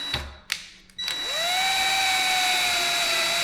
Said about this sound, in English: all the reason I like the drill